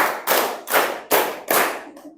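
A classroom of children claps together in a clap game, five sharp, loud group claps in an even rhythm, the last one softer, with no talking.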